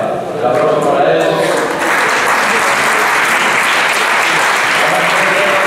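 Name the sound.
applause for a handball player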